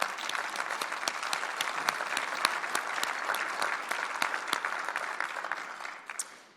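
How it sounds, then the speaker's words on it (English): Applause from the audience at a tribute program: a thick, even patter of many hands clapping carries on steadily, with occasional louder individual claps, then tapers off right at the end. "you should all give yourself a round of applause for what was accomplished."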